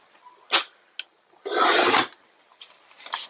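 Cardstock being cut for an Easter shaker card, with short scraping snips and one longer rasping cut, close and crisp, plus small rustles of paper handling.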